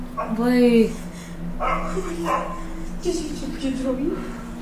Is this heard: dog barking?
yes